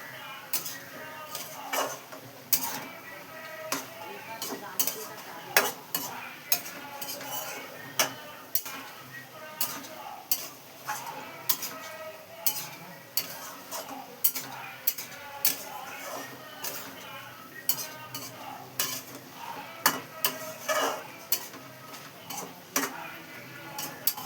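Curry being cooked in a pot: steady clinks and ticks of a spoon scraping and stirring, repeating at an irregular rhythm close by over a soft background hiss, with occasional voices.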